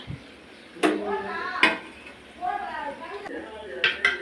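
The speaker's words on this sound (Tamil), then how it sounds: "இப்போ சிக்கனை நல்லா வதக்கிக்கலாம்." Chicken and tomatoes being sautéed in a pan for chicken kulambu, with a few sharp clinks and scrapes of a spoon against the metal pan spaced through quiet stirring, as a person talks.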